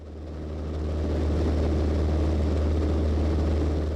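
Small high-wing and low-wing propeller airplanes flying together in formation, a steady loud droning engine hum that swells in over the first second and then holds, with no voices.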